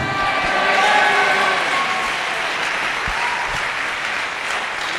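A church congregation applauds to acclaim Jesus, with steady, dense clapping from many hands that holds throughout, loud and close and beneath a faint background tone.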